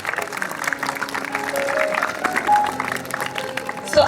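Children and staff at a school welcome assembly clap to greet new senior-wing pupils, a sustained crowd applause in a large room with some voices and brief high tones mixed in.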